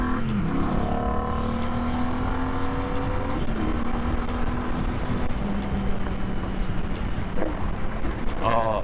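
Royal Enfield motorcycle on the road, a continuous close engine drone with shifting pitch as it changes speed and gears, under heavy wind rush, with someone talking over it.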